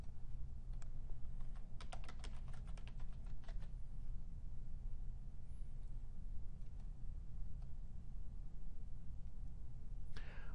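Someone types a username and password on a computer keyboard: a quick burst of close, crisp key clicks, then sparse isolated taps over a steady low background hum, and one last cluster of keystrokes at the end.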